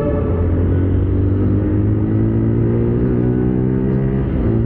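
CF Moto Papio XO 1 small motorcycle accelerating during a street speed test on an avenue: a steady, loud mid-pitched engine drone with rising harmonics, close and continuous with no talk.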